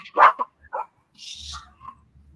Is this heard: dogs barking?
yes